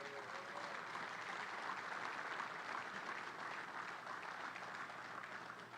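Sustained applause from a large crowd at a building topping-off ceremony, steady dense clapping filling the whole stretch without a break.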